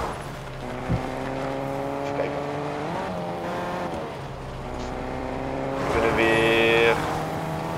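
A Fortnite car engine revs and whines in shifting tones, with a tire squeal and a burst of revving near the end, voices talking over it.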